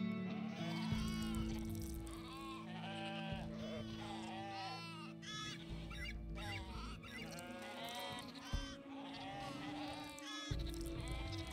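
Sheep bleating in the colony-building game RimWorld, repeated wavering bleats from several animals that overlap one another over a steady low background hum, moderately close and continuous throughout.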